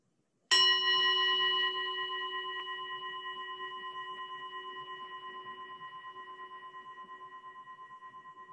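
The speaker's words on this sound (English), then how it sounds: "we'll just start by listening to the sound of the bell." A single meditation bell strike rings out clearly, then its pure tone hums and fades slowly over several seconds into quiet.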